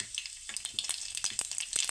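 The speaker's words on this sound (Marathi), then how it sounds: "तेल इथे छान असं गरम झाले याच्यामध्ये मोहरी टाकून घेऊया" Mustard seeds are dropped into hot oil for a tempering for kat vada, giving a quick burst of sharp crackling pops over a steady close sizzle.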